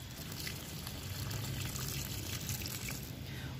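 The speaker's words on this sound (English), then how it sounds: "Watering it in." Water poured onto newly planted perennials in a garden bed, a steady soft trickle and splash that runs continuously at close range without pause.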